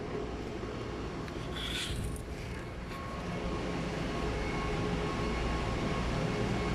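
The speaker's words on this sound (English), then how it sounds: "we use blower to clean this" A blower pushes a constant broadband rush of air to clean dust from the filter of Nokia PSS-32 DWDM equipment, steady and unbroken throughout with no speech.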